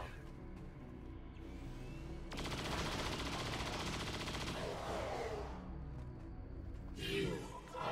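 A machine-gun saturation-fire burst from the squad strategy game XCOM 2: a dense, rapid, loud rattle of shots lasting a couple of seconds, followed by softer battle noise and a closing whoosh.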